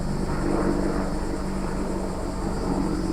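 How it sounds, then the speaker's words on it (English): A steady low engine drone with rotor thrumming, continuous and fairly loud throughout, as a helicopter passes overhead; no talking. "Let's wait for this helicopter to go away, right?"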